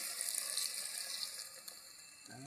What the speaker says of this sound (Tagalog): ngayon lagyan na natin tubig guys